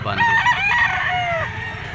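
A yellow-legged Sinibalang rooster at a pet market crows loudly and close by, one full raspy cock-a-doodle-doo with a drawn-out falling tail, over low background murmur.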